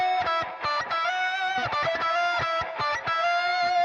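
Two electric guitars with a distorted, effects-laden tone playing the same jazz fusion line, one doubled an octave lower, moving through quick articulated notes together, close and alone.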